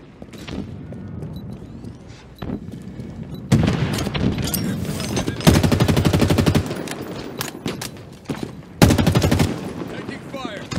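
Rapid automatic gunfire bursts in Halo Infinite multiplayer, loud and near, coming in several dense volleys between stretches of lighter shots, with game voice callouts and effects layered in.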